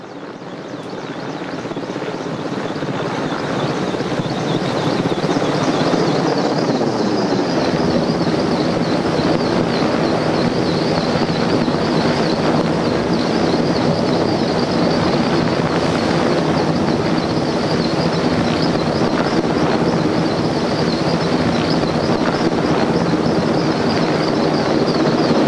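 A helicopter hovers loud and close in gusty wind while lifting 3.5 tons of mine winding gear at Waiorongomai toward Butler's Incline, its rotor roar building over the first seconds and then holding steady throughout.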